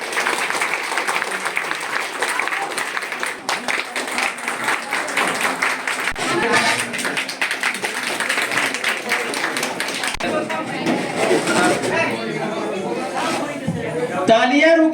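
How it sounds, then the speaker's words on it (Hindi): Sustained audience applause at a college celebration of Florence Nightingale's birthday, dense, loud clapping with crowd chatter running throughout and thinning slightly near the end. "तालियां रुकनी नहीं चाहिए।"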